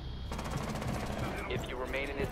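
Gunfire in Rainbow Six Siege during a multiplayer round, rapid bursts of automatic shots crackling fairly quietly under excited player talk.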